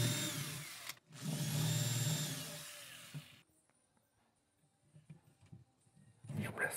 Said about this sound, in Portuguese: Uma broquinha bem fina, para depois vir o parafuso, só fazer o comecinho para facilitar.